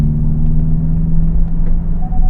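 A Hyundai IONIQ 5 N hot hatch rolls along with a steady, loud low road rumble and faint electric drive whine that holds even as it slows, with no talking.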